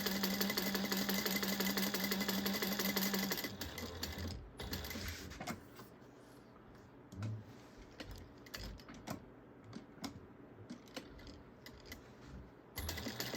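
A sewing machine stitches the 3/8 inch side seams of a fabric bag, running in a loud steady burst at first, then giving way to quieter intermittent clicks and mechanical taps.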